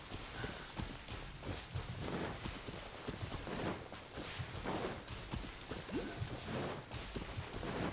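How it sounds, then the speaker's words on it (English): Rain falls in the video game Genshin Impact as a steady, even patter with soft footstep-like taps mixed in, no speech. "Just out for a walk in the rain,"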